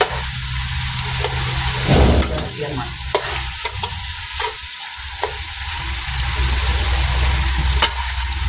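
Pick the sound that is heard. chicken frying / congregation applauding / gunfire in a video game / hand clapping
chicken frying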